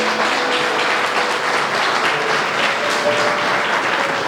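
A church congregation claps in praise during a sermon, a dense, even wash of applause that holds steady and loud throughout, with no pause.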